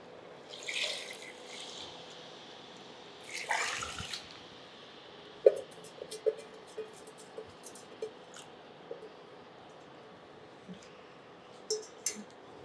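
Water poured from a cup into a pressure cooker of beetroot biryani, heard as two short splashing pours followed by scattered drips and small wet clicks in a quiet kitchen.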